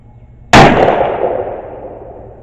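A single sharp, loud gunshot fired with stout loads at a playing card target, very near, its crack followed by a long fading echo after a quiet start.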